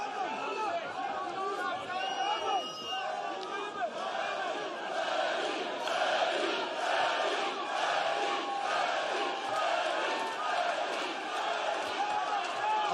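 A boxing match crowd between two strongmen cheers and chatters in a dense, continuous roar, with bursts of shouting swelling over the steady murmur and a voice talking over it.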